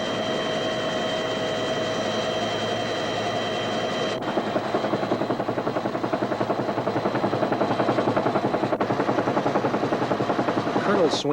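A Vietnam War-era military helicopter's rotor thumps in a fast, steady beat with a droning engine hum, loud and continuous overhead, under some faint talk.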